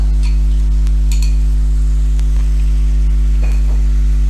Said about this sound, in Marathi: आणि चांगला तांदूळ त्यामध्ये परतून घेतो